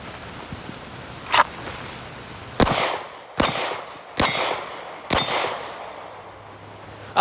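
Glock 45 pistol shots ring out outdoors in a rainstorm, five sharp, loud cracks spaced about a second apart with metallic ringing tails, over a steady hiss of rain.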